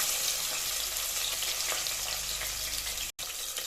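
Small onions sizzling in oil with spices inside a pressure cooker for a one-pot chicken gravy, a steady close hiss and crackle with a brief cut near the end.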